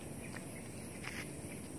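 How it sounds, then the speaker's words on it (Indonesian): Crickets chirping in a mountain forest among large trees and bamboo, a faint, continuous high trill with a few brief louder chirps over quiet ambient background. "Rasa sekali suara jangkriknya."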